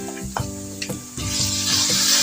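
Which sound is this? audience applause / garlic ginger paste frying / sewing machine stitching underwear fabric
garlic ginger paste frying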